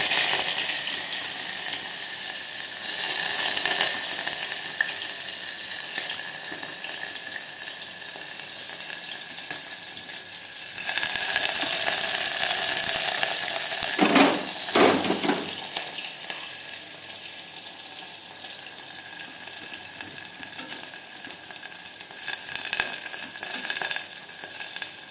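Chopped onions frying in oil with whole garam masala, a steady close sizzle running throughout with a few louder bursts and stirring scrapes midway, no voices.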